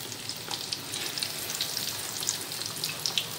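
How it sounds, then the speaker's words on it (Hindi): Fish fingers frying in hot oil, a steady close sizzle with fine crackling pops throughout and no voices. "तो बस हमें इतना ऐसे ही फ्राई करना है जैसे हम प्याज, आलू, बैगन के पकौड़े फ्राई करते हैं।"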